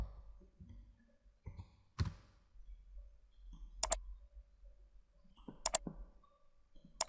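Computer mouse clicks while stepping through a software setup wizard: a few sharp, isolated clicks, some in quick doubled pairs, spaced by quiet gaps over a faint low hum.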